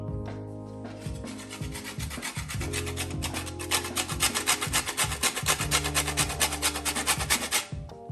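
A whole nutmeg rubbed against a grater for béchamel sauce, a steady, close, raspy back-and-forth scraping in quick rhythmic strokes that speed up toward the end, with no talking.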